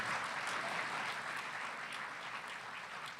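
Audience applause at a gala charity auction, steady and dense throughout, a sustained wash of many hands clapping at moderate distance with no talking.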